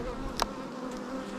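Honey bees buzz loudly and continuously around a hive frame during an inspection, with a brief click partway through.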